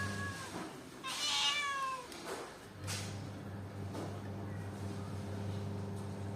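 A cat meows once, a clear drawn-out call near the start, followed by a quieter second sound over a steady low background hum.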